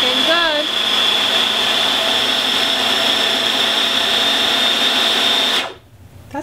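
A food processor whirs loudly and steadily, chopping an eggplant mixture with lemon juice, then cuts off abruptly near the end, leaving a quiet room.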